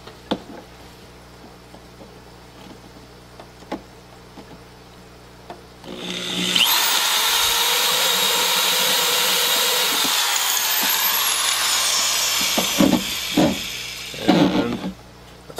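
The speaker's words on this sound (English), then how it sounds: "The next step is to drill a hole for the hose for the drain valve," A power drill bores a hole for a drain valve hose, a loud whining burst of several seconds rising after quiet handling clicks, then tapering into scattered knocks.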